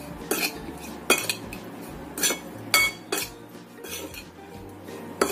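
Seasoning stirred into food in a bowl, with a utensil clinking and scraping against the bowl in repeated close strokes at an uneven rhythm, with a faint low hum underneath.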